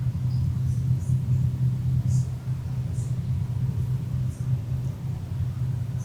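Simulated Westland Scout helicopter in Microsoft Flight Simulator 2020, a steady low rotor and engine drone holding even and continuous while the aircraft picks up speed over the Maldives, with faint higher whines drifting in and out above it.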